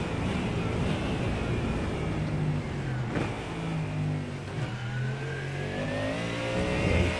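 A steady, loud GT3 race car engine drone in iRacing at Mosport, with rising and falling pitch as the car shifts through gears, continuous throughout.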